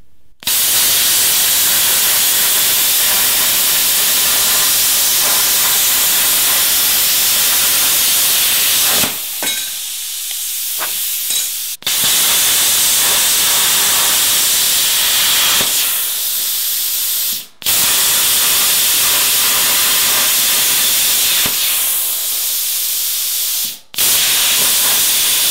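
A handheld plasma torch cuts sheet metal for a homemade car center console and dash, giving a loud, steady hissing roar in long bursts separated by brief pauses.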